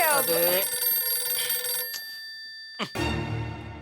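Phone ringing in a comedy sitcom scene, a bright electronic ringtone with tonal repeating notes, interrupted briefly by a click and a pause before resuming under faint speech.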